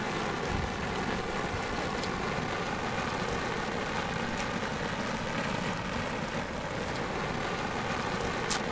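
Heavy rain falls in a steady, dense hiss that stays even and fairly loud throughout, with no voices and only a faint low rumble beneath.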